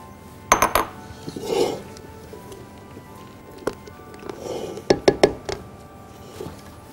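A utensil scrapes and clinks against a bowl while whipped cream is folded together with dulce de leche, with irregular sharp taps and soft swishing strokes, close and fairly quiet.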